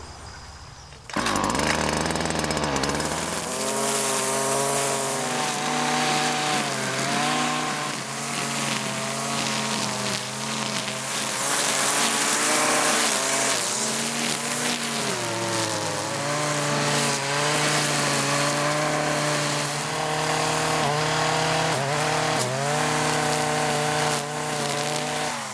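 A weed whacker cuts down weeds in an organic garden potato patch. The engine starts and then runs loud and close for a long stretch, revving up and down as it meets the growth, with no talking.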